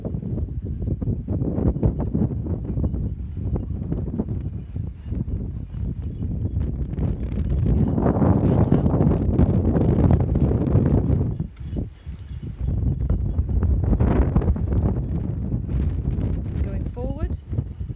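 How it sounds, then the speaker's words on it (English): Strong, steady wind buffets the aft deck of a converted MOD ammunition barge, a loud continuous rumble that swells and briefly dips, with no talking. "Wind's just picked up."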